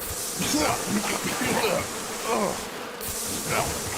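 A swarm of bees buzzing continuously up close, a dense droning hum that swells and fades slightly, with a brief rustle near the end.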